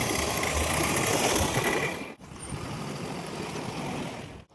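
Motorcycle engine on a rainy road trip near Bhojpur, running as a loud, continuous drone with a brief dip around the midpoint before it carries on steadily. No voices are heard.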